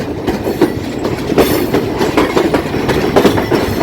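Chitra Express train entering Saidpur Junction, a loud close rumble with rhythmic clickety-clack of wheels over rail joints, heard alone.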